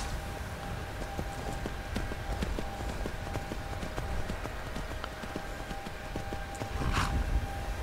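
Horse hooves beating in a steady, rapid clip-clop rhythm in the video game Skyrim, with a continuous bed of game ambience and a brief swell of noise near the end.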